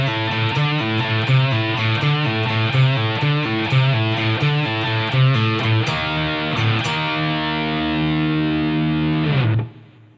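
Heavily distorted electric guitar plays the second half of a chorus, a loud, steady chugging riff of repeated chords that shifts to sustained ringing notes before cutting off near the end.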